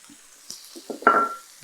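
Raw chicken is dropped into a frying pan of chilies, curry leaves and onion, giving a few soft knocks and then a sudden sharp sizzle that flares up close and slowly fades.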